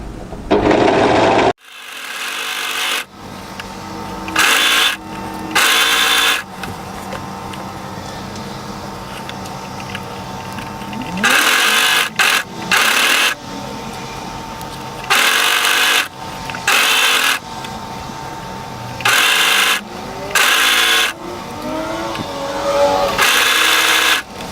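A sewing machine stitches through thick layers of sweatshirt fabric in a panel sweatshirt, in a series of short, loud whirring bursts separated by pauses and quiet fabric handling, with no talk.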